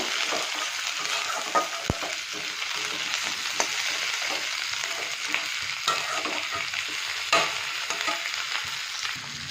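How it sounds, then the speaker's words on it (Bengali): Potato, onion and tomato sizzle in a frying pan while being stirred, a steady close hiss broken by occasional scraping and clinking strokes across the whole stretch, with no voices. "টমেটো দিয়ে আরও দু মিনিট আমি নাড়াচাড়া করে নেব"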